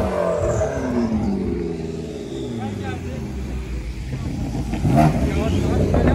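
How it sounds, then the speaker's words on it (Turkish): A McLaren MP4 sports car with its engine droning and building to a loud rev as it passes, mixed with other car noise outdoors at a drift event, while someone talks over it. "Evet arkadaşlar, McLaren geliyor."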